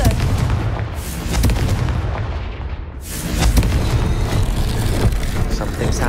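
A Confringo blasting spell bursts in the Hogwarts Legacy video game: heavy booming blasts, one near the start and a bigger one around the middle, ringing out over a dense, rumbling game soundscape.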